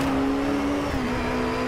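Car engine revving in the racing video game Driveclub VR, a steady loud droning engine note that dips slightly in pitch partway through, heard without talk.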